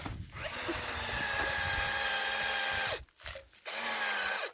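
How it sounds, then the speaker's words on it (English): A cordless drill whines steadily into a maple tree trunk outdoors for about three seconds, pauses briefly, then bores again, loud and close. "I started drilling my hole"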